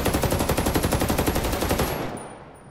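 Rapid automatic gunfire in Ghost Recon Breakpoint, a loud, evenly pulsing burst of about twenty shots that stops abruptly and leaves a fading tail.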